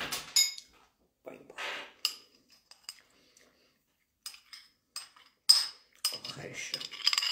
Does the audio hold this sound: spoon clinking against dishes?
yes